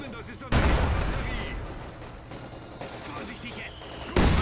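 Gunfire in the Company of Heroes 2 video game: a sudden loud burst of shots erupts and rattles on for several seconds, followed by a second abrupt blast at the end, with game voices mixed in.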